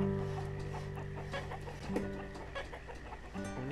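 Chickens cluck faintly in the village-building video game Banished, soft scattered clucks over a quiet, steady tonal background.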